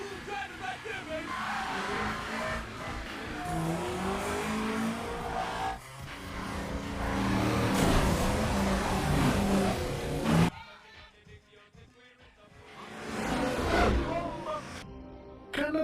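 Cars driving hard in a Fast & Furious street-racing scene, engines revving and tires skidding loudly under film score and voices, then dropping to a brief quiet before the engine noise swells again.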